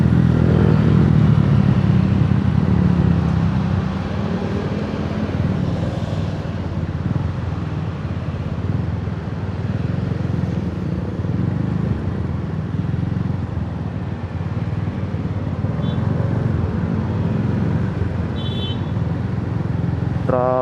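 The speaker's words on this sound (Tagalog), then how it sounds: "Talagang maingay lang yung motor natin." A noisy motorcycle ridden at about 60 through traffic, its engine droning steadily and close for the whole stretch, with a loud low rumble and some clatter.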